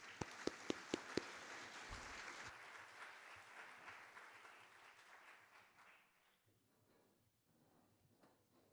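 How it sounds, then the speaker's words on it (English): Audience applause at a general assembly, a steady broad clapping from a crowd that swells at the start and gradually thins and fades away toward the end, with no talk over it. "a warm round of applause for Sister Abby"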